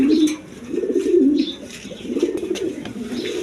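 An Indian Kaldam pigeon, a male, coos in repeated low, rolling phrases close by, with faint chirps from other birds behind.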